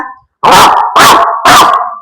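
A schoolchild performing mimicry voices dogs fighting and barking at a school talent show, three loud, close, drawn-out snarling barks in steady succession with no other sound.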